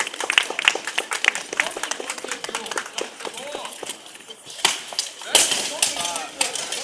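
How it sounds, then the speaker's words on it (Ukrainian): Audience applause and scattered clapping for knights in a staged armoured sword fight at a book presentation, dense and steady with louder bursts, mixed with crowd voices and talk throughout. "Хлопці активніше підтримуємо наших бійців оплесками"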